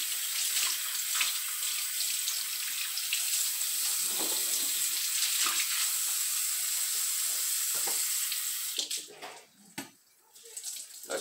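Water runs steadily from a tap onto a sponge while bicycle parts are cleaned, a close, continuous hiss that breaks up and fades near the end.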